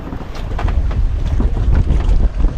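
Strong wind at sea during a rainy night buffets the microphone with heavy low rumbling gusts, steady and loud throughout, with no voices.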